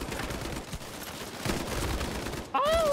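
Gunfire in the video game Battalion 1944, a dense run of rapid shots in bursts, loud and close, mixing into a continuous rattle with a brief high tone near the end.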